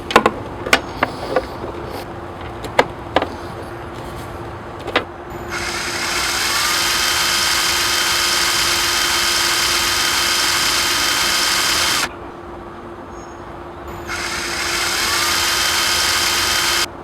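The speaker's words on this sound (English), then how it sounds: "we're going to have to use a masonry bit and masonry screws to mount the lower rail" Power drill boring into a brick threshold with a masonry bit to mount a screen door's lower rail, a loud sustained grinding drone in two long runs after several sharp knocks at the start.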